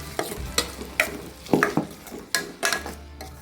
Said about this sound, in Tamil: இந்த ஸ்டேஜில் நம்ம அரைச்சி வச்சுருக்க தக்காளி பேஸ்ட்டையும் ஊற்றிக்குவோம். ஊற்றி நல்லா கிளறி விட்டுருவோம்.